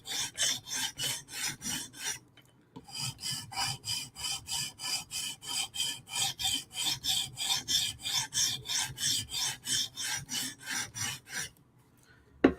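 A Hinderer knife blade being sharpened on a stone, with rapid, regular rasping strokes repeating in a steady rhythm, close and distinct, broken by one brief pause near the start and ending in quiet.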